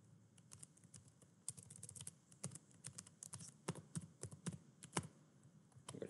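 Quiet keyboard typing, a scatter of light key clicks in uneven bursts as a Wi-Fi password is entered, close and faint with no voices.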